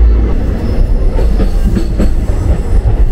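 Rourkela Intercity Express train 18107 runs between Koraput and Jagdalpur, heard from inside a carriage as a loud, steady low rumble with rhythmic clatter of wheels on the rails.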